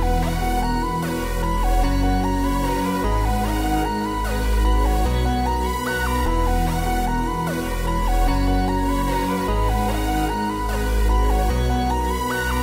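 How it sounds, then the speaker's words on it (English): An emo plugg beat melody plays, with an icy Omnisphere key tracing a simple repeating pattern over a glidey Serum saw lead, sidechained to a kick. The loop is steady and dense, with bass pulses and no voices. "I picked an icy sounding key from Omnisphere and laid down a simple pattern"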